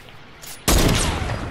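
After a quiet moment, a sudden burst of rapid gunfire erupts in a one-on-one video game match, loud and sustained to the end.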